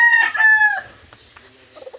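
A backyard rooster crows loudly and close for about a second, with hens clucking faintly after and a short burst of clucks near the end.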